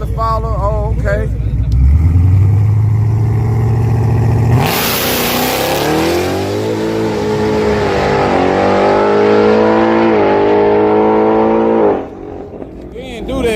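A race car at a street-racing event with burnouts roars off the line and holds first gear for a long, loud, rising pull before the engine note cuts off, with people talking excitedly over it.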